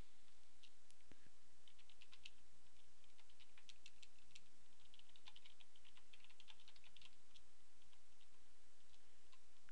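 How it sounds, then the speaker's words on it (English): Steady typing of C# code on a computer keyboard, quick irregular bursts of close key clicks continuing throughout with short pauses, no talking. "you're going to want to type"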